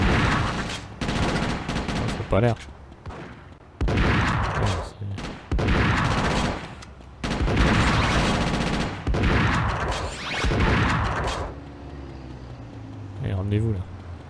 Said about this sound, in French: Fusil à double canon.